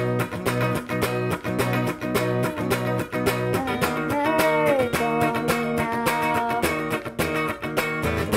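Guitar strumming chords in a steady rhythm, loud and close, with the chord shifting partway through and the strumming continuing without pause.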